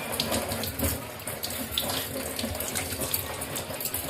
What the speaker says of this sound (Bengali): এই কচু পাতাগুলো প্রথমে ধুয়ে নেব ভালো করে